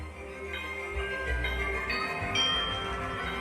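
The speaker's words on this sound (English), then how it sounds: "Should we ring the doorbell?" A melodic doorbell chime rings out in the puzzle game Tangle Tower, a few bright bell tones sounding over a soft, sustained game background with no speech.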